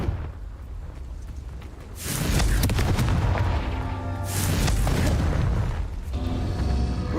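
A Confringo fire spell is cast in the video game Hogwarts Legacy, loosing two loud booming blasts a couple of seconds apart, each swelling into a roaring, crackling burst over quieter game ambience.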